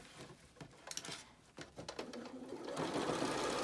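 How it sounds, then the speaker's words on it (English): Sewing machine stitching fabric face masks in a production run, starting with a few short, close bursts of needle chatter and then settling into a fast, steady, loud whirring run. "You can do 25 masks really quickly when you do production line sewing like this."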